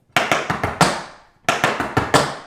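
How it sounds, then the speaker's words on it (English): Tap shoes play cramp rolls and stamps on a hard floor, loud crisp bursts of rapid close strikes, each roll ending in a heavier stamp, two phrases split by a short pause, with no voices. "So cramp roll, stamp, cramp roll, stamp."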